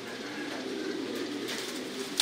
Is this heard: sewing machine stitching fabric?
no